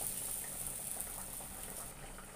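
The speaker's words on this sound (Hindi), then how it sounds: "अब मैं दूसरे पराठा डाल रही हूँ" An ajwain paratha sizzles softly on a hot griddle, a faint, steady crackling hiss that tapers slightly toward the end.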